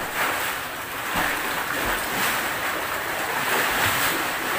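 Big sea waves surge and wash steadily in a continuous broad roar, loud and close, with no voices.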